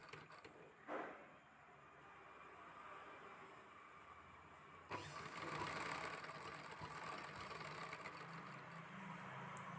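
A sewing machine stitches the shoulder joint of a blouse, heard as a faint, steady mechanical whirr that grows louder and denser partway through, close by, with no voices.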